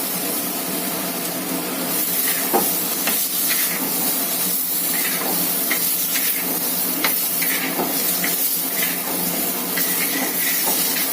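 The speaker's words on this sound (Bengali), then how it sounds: "মশলা থেকে তেল ছেড়ে এসছে, এবার দিয়ে দেব থেতো করে রাখা আমড়া।" Crushed hog plum dropped into spice paste frying in oil for a crab curry brings a loud, steady sizzle and hiss with scattered stirring scrapes throughout.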